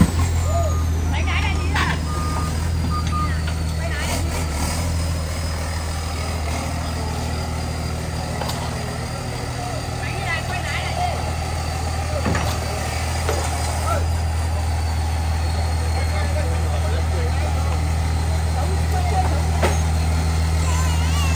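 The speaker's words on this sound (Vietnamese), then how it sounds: "Bây giờ máy sẽ leo lên cái chỗ bằng để tiến hành thay dầu động cơ." A tracked excavator climbs onto flat ground, its diesel engine droning steadily and loudly throughout with clanking and occasional beeping, close by.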